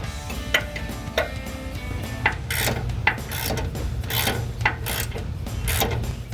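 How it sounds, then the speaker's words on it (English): A wrench snugs up a bolt on the front adjustable upper control arm of a Jeep Wrangler JK, producing close, rapid ratchet clicks in a brisk, fairly regular rhythm with sharper ticks mixed in and no talking. "Snug up your bolt with the wrench before you start."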